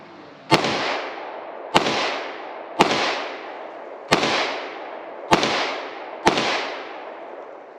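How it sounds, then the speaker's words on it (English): Six loud gunshots from a Polish Radom Wz.33 Tokarev pistol firing hollow-point rounds, each a sharp close crack with a ringing decay, spaced roughly a second apart with no talk. "how about we let him shoot this gun and get his take"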